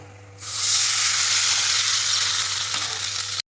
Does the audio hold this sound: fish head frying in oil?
yes